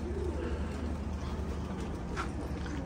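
Pigeons give soft, low cooing under a steady broadband background hum, faint and continuous rather than sharp.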